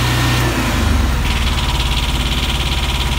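A Winter Haven Secesh generator runs steadily close by, its engine note dropping slightly partway through and then settling into an even, rumbling hum with a faint rhythmic pulse.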